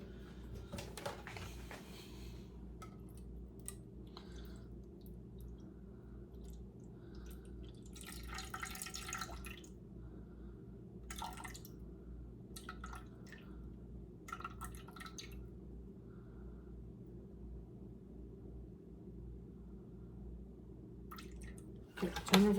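Water splashes and trickles into a bowl during sourdough bread making, coming in several short, faint bursts separated by quiet stretches, close by, with no one speaking over it.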